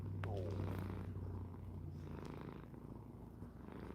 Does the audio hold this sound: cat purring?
yes